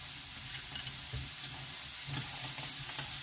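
Ground dried mushroom seasoning and mushrooms fry in a pan, giving a steady, dense sizzle close by with occasional stirring scrapes and no talking.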